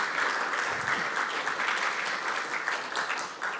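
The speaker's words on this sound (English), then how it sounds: "Give Mason a round of applause." Audience applause at a Kubernetes tutorial session, a sustained burst of clapping from a seated crowd, close and fairly loud, with no talking over it.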